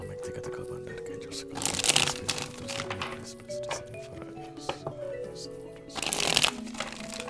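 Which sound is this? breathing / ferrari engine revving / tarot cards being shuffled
tarot cards being shuffled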